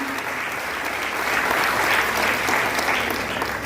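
An audience at an education institute's student success event claps with hands raised, a thick, sustained burst of applause from a full room that swells slightly in the middle and stays steady to the end.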